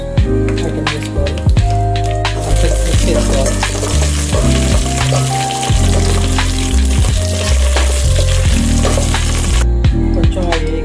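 Bagara spices sizzle and crackle loudly in hot ghee and oil, a dense continuous frying hiss close up with scattered pops, and no voices over it.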